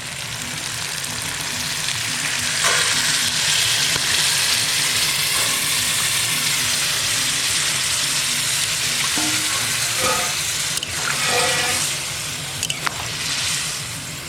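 Chicken pieces sizzle loudly in a hot pan while they are stirred during browning, with a steady, dense frying hiss through the whole stretch and occasional scraping clinks from stirring. Nobody talks.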